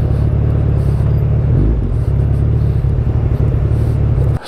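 Car engine rumble from a vehicle approaching on a road after a Royal Enfield Himalayan motorcycle crash: a loud, steady low drone that swells slightly midway and holds throughout, with no speech.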